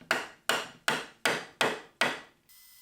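Six evenly spaced, sharp hammer blows drive a Japanese wooden joint back together, each strike close and crisp with a short decay, followed by a pause.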